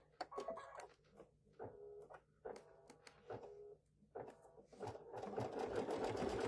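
Embroidery machine stitching a snowman trivet, a close steady run of rapid mechanical needle clatter in short bursts with brief pauses, the motor hum building and growing denser toward the end.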